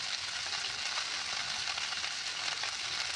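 Ghee sizzling steadily in a pan of freshly cooked pulao, a soft continuous hiss and crackle, close and even throughout with no voices.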